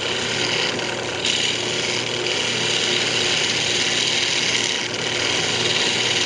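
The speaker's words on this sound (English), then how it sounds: "It's just a fingernail gouge." Fingernail gouge cutting a purpleheart wood pendant spinning on a lathe, a steady close hiss and whir of the tool against the wood that holds at an even level throughout, with no voices.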